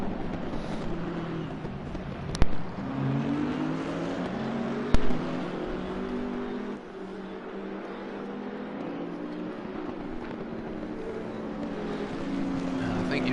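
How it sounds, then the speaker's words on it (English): BMW and Bentley race cars in a racing game at Monza, engines droning and shifting pitch steadily throughout, with a couple of brief sharp clicks and a commentator talking over them. "We've got the 21 BMW chasing down the 79 Bentley"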